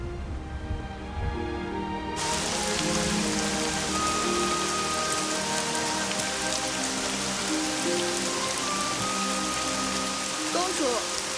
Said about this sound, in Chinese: 天要下雨了